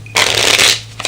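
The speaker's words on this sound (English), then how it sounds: "You can even shuffle first" A deck of playing cards being shuffled up close, a loud dense riffling burst lasting most of a second, then a few quieter flicks as the cards settle.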